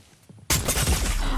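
A sudden loud burst of video game gunfire erupts after a quiet moment, a sharp dense crack continuing briefly.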